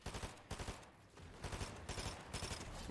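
An SMG fires in rapid, rhythmic bursts during a Fortnite box fight, several quick volleys of game gunfire in a row at fairly low volume, with no talking.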